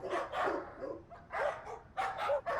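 Several dogs barking in loud, bursty clusters, four dogs at a housing society at night, with yips between volleys and no talk.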